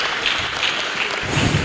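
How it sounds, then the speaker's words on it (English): A crowd at a DevFest tech conference in Owerri claps steadily throughout, a dense wash of applause that swells slightly toward the end. "A round of applause for him once more."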